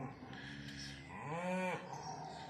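A cow of about 1,000 pounds lows once, a single drawn-out moo rising and falling near the middle, fairly close, over quiet outdoor farm background on a calf-checking evening.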